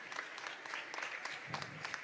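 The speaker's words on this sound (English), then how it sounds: "A special round of applause for all our favorite teacher and professor, Jigyasa ma'am" Applause for a favourite teacher and dance choreographer at a school of Kathak dance, a moderate patter of hand claps with individual strikes audible, fairly soft and continuous over two seconds.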